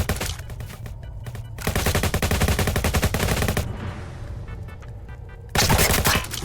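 Rapid automatic AK-47 fire in Roblox Jailbreak, with dense, loud bursts of rattling shots separated by brief gaps and a short lull before a final burst, all without speech.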